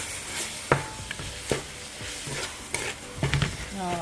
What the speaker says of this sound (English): We're going to mix it all together.